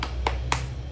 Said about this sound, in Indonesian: Ayo sayang, tepuk anak soleh.